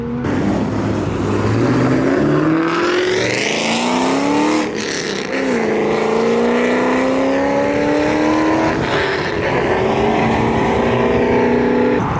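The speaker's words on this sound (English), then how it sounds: "C32 AMG, V6 supercharged" A supercharged V6 Mercedes C32 AMG accelerates hard on a cold road, its loud, close engine note climbing in pitch through several rising sweeps with brief drops between gear changes.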